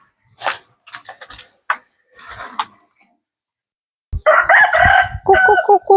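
Chickens cluck and squawk in short bursts, then a rooster crows loudly and close, followed by more clucking calls.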